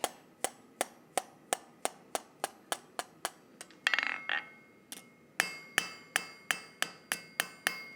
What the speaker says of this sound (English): The ball peen hammer in the centre, give it a light tap.